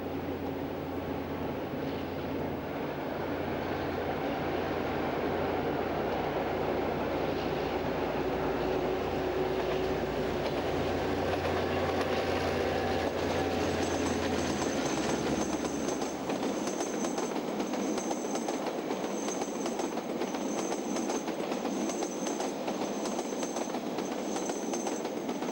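Long train rumbling steadily around the S-curves at Makarau, a loud continuous roll of wheels and wagons with faint flange squeal and a high whine emerging later as the low rumble drops away.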